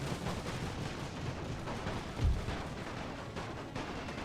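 Light machine gun fire in The Great War battle game rattles on as a dense, distant stream of gunfire, with one heavier thump partway through and a steady din of combat behind it.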